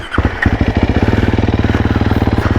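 A Sherco enduro motorcycle engine pulls hard up a hill, its loud, close exhaust firing in a rapid, even pulse that quickens as the revs climb, with no voices.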